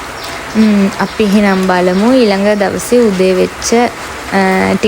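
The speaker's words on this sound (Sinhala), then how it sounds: "ඒ හින්දා වැස්ස සද්දේ සරසර බරබර ගගා ඇහෙනවා ඇති." Steady rain patters beneath close, clear talking by one person, with the soft hiss of falling drops filling the pauses between phrases.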